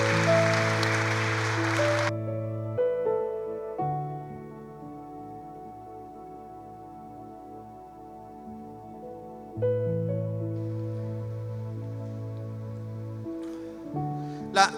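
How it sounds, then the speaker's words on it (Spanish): A congregation at a Spanish-language church service claps a welcome in a short burst at the start. Sustained keyboard chords then take over and ring on alone, with softer noise returning near the end. "Démosles un fuerte aplauso de bienvenida."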